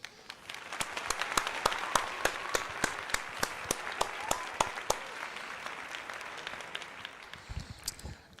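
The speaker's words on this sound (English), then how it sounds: "So that deserves a round of applause." A round of applause, crisp sharp claps in a quick, regular rhythm, moderately close, lasting about five seconds and then fading into softer crowd noise.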